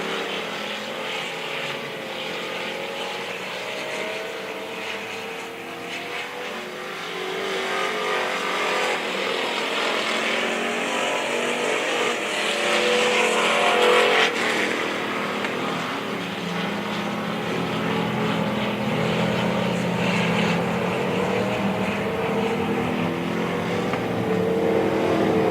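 Pure stock race cars roar around Springfield Raceway, a loud, steady drone of several engines that swells and fades as the pack passes, with a faint race announcer underneath.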